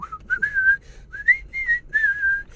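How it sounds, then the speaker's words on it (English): A single person whistles a catchy film-score tune, clear, close and alone, in short melodic phrases with brief pauses between. "There'll be times where I'm driving to work and just start whistling."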